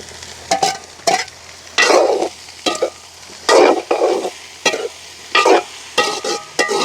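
Okra with onion and green chili fries in oil with tamarind, stirred in bursts of loud sizzling and spatula scrapes, close and steady with short pauses between strokes, no talk.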